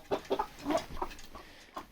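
Chickens in a winter coop inside an old Finnish stable, soft scattered clucks and murmurs close by, fairly quiet, with no talking.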